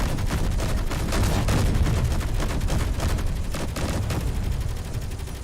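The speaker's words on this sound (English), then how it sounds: "Good to see the turrets are working" Base turrets in Space Engineers fire continuous, overlapping volleys with sharp cracks and booming thuds, loud and relentless throughout.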